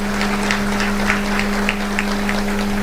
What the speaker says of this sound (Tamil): அவருக்கு மிகப்பெரிய கைத்தட்டலை நீங்கள் கொடுக்க வேண்டும்